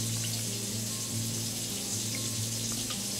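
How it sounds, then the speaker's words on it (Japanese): Water runs steadily from a tap into a cooking pot holding braised pork belly with green onion and ginger, a continuous, fairly quiet hiss and splash with no talking. "ちょっとお水だけ。"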